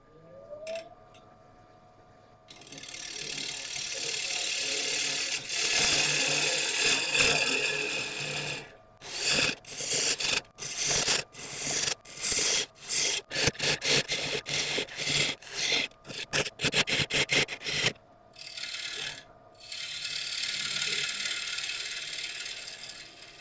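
Turning tools scrape and rasp against hard greenheart wood being hollowed on a lathe, first as a continuous grinding drone, then as a rapid series of short, choppy cuts, before settling back into steady scraping.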